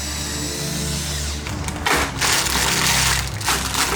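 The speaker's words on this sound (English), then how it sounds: "we're gonna drill this rivet out" A power drill bores out a rivet on the radiator support of a 4th-gen Ram 1500, first a steady whirring hum, then a louder grinding bite into the metal, close and loud with no talk.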